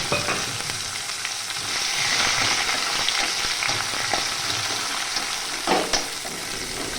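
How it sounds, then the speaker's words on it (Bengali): Chopped onions frying in hot oil with bay leaf, cumin and dried chili for a lentil dal, a steady close sizzle with scattered crackles and a couple of louder spatters near the end. "পেঁয়াজটা যতক্ষণ ভাজা হোক"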